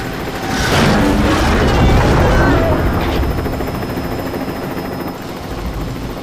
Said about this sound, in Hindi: हमें वापस हेलीकॉप्टर पे जाना होगा।